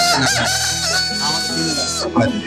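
Roosters crow loudly at a poultry market, long drawn calls over a busy background of clucking chickens, close and continuous with barely a pause.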